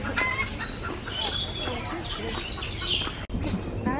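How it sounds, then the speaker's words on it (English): Roosters and hens at a zoo in Sydney, Australia, clucking and squawking repeatedly nearby in a busy, overlapping flock chorus, with no clear talk over them. "Yeah. And roosters."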